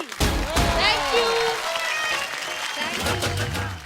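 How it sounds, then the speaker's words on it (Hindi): A crowd breaks into loud applause, clapping filling the space, with voices and cheers mixed in before it fades slightly. "तो एक बार जोरदार तालियां भावना और श्वेता के लिए और अंकल के लिए भी."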